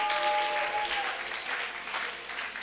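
A church congregation applauding during a sermon, a dense, steady wash of clapping from a crowd filling the room.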